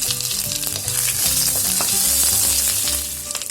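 Steady, loud sizzling of grated ginger frying in hot oil for palak paneer, with occasional stirring scrapes, continuous throughout with no voices.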